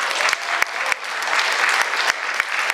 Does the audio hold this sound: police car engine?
no